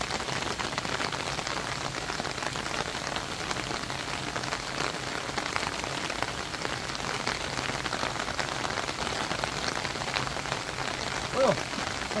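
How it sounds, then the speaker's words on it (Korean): Steady rain falls on a weekend farm garden during an apricot harvest, a dense continuous patter close by without pauses. "그래도 뭐 비가 와도 괜찮다."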